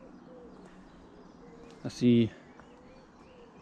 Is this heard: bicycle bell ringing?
no